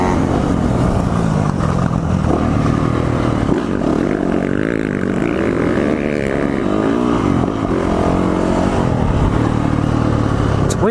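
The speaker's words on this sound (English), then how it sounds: "Now the top end on this 4-stroke." A Yamaha four-stroke motocross motorcycle revs hard on a track, its loud engine roaring continuously and rising and falling in pitch, close and dominant the whole time.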